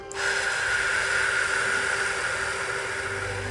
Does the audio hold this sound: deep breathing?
yes